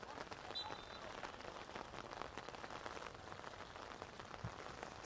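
Heavy rain pours down during a football match between two clubs in a NorthEast Conference game, a steady, dense hiss of drops that fills the whole stretch with little change in loudness.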